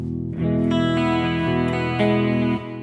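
A clean electric guitar chord through a Mooer GE150 Plus multi-effects unit rings out and sustains, washed in reverb and trailing delay echoes, then cuts off.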